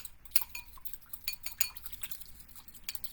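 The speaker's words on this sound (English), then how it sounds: "And we can whisk that together." Metal whisk clinking against a bowl while lemon orzo pasta salad dressing is mixed, a quick series of light, close taps and scrapes in an otherwise quiet kitchen.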